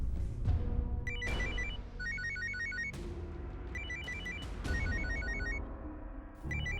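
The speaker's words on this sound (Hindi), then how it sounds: "मदन का फोन" A telephone rings with repeated electronic trilling bursts, loud and close, over a busy background of dramatic music from a Hindi TV serial scene, with no talking.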